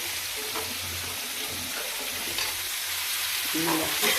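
A pot of fish curry cooked with mango bubbles and simmers steadily with a soft, continuous hiss, close by and fairly quiet, with a few faint clinks over the bed of sound.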